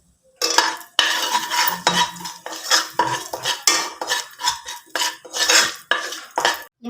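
A spoon scrapes and stirs Kashmiri chili, turmeric and crushed red chili as they roast in a pan, in a run of rhythmic, fairly loud metallic strokes close up, with no talking.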